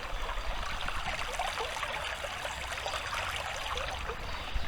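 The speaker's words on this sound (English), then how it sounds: "You hear the water." A stream flows through Loamhole Dingle woodland at Ironbridge, a soft continuous babble and trickle heard faintly and without pause.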